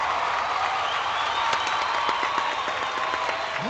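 A crowd joining an online punctuation show cheers and applauds in a continuous, moderately loud roar, with a few whoops and whistles rising above the mass of sound.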